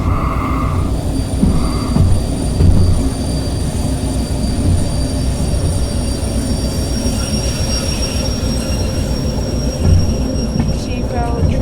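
A train rolls steadily along the track in the Derail Valley train simulator on a forest route near a sawmill, with continuous loud rumbling wheel noise, clattering, and high metallic squealing tones throughout, plus a few brief bursts of talk.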